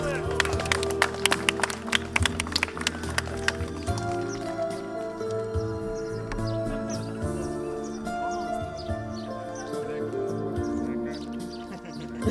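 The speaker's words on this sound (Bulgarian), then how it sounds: "Аплодисменти!" A few seconds of crowd applause at a civil wedding ceremony in Bansko, Bulgaria, with scattered claps that give way to steady music.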